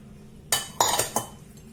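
Grated carrot stirred into a nem filling in a bowl, three or four short clinking scrapes of a utensil against the dish in quick succession, close and clear in an otherwise quiet room.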